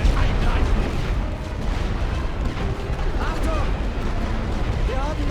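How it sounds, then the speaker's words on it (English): Artillery fire rumbling in a Great War Western Front strategy game, a steady low, heavy bombardment roar with dull booms spread through, kept up under faint voices and game chatter. "This is why we have artillery."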